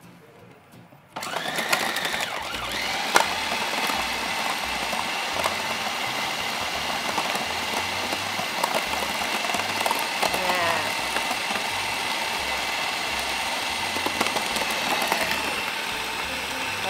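An electric grinder whirs loudly and steadily after a brief quiet start, blending garlic and spices during an Indonesian superfood cooking class, its mechanical drone continuous throughout.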